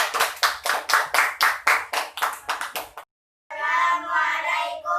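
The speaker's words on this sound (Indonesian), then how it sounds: "Tepuk tangannya, kasih semangat." Classroom clapping for a presenting student group, a few seconds of rhythmic, fairly even hand claps close by, breaking off into a short silence before children's voices follow.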